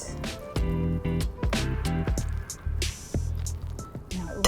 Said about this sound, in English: Pesto goes on. Mix.